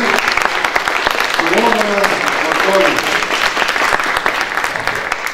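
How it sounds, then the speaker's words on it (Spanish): A seated audience at a law lecture gives a strong, steady round of applause lasting several seconds, while a voice speaks briefly over the clapping. "démosle un fuerte aplauso nuevamente"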